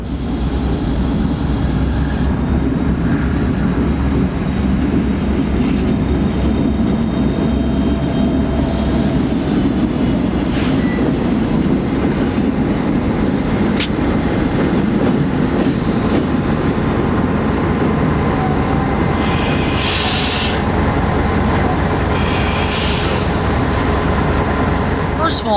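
A Canadian Pacific freight train led by a multi-locomotive lash-up rumbles past, a sustained heavy low roar with wheel clatter, plus a couple of brief high horn-like bursts late on.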